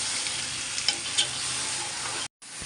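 Mutton frying with onions in a hot pan for a mutton rezala, a loud continuous sizzle with a few stirring clinks, cutting out briefly near the end.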